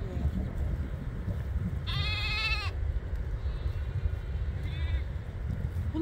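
Sheep and lambs on a farm in Germany bleat: one loud, clear bleat stands out, followed by fainter, more distant calls over a low, steady outdoor background.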